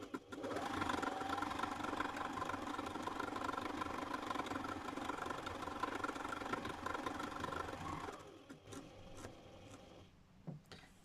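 A needle felting embellisher machine working wool tops runs with a steady rapid mechanical chatter for about eight seconds, then winds down and stops, leaving a few faint clicks.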